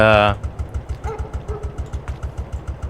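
An old tractor engine in Farming Simulator 22 putts at idle, a steady run of evenly spaced low thumps after a brief burst of voice, loud and close.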